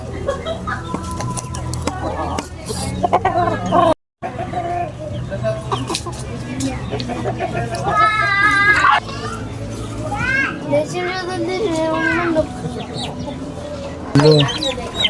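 Chickens cluck and squawk amid a busy outdoor scene, with children's voices and chatter running throughout.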